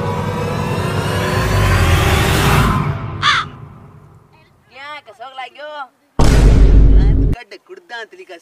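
Diwali firecracker rocket at a firecracker competition: a long loud broadband whoosh and roar, then a sharp burst, people talking, and a second loud blast near the end.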